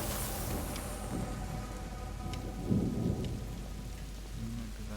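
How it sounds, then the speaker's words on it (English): Heavy rain falls steadily in the video game A Plague Tale: Innocence, a dense constant wash with low rumbling swells of thunder, loudest near the middle, and no talking. "Lucas, Hugo, stay out of the rain"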